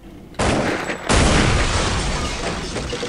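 An AK-47 fires in Counter-Strike: Condition Zero, loud sharp blasts cutting in abruptly and then rolling into a sustained burst of dense gunfire with heavy boom.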